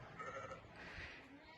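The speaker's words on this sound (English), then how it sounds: "Right in this little stall we have sheep," Sheep bleating from a small stall at the edge of a mountainside village in Italy's Marches region, a couple of soft, wavering cries close by over faint outdoor background noise.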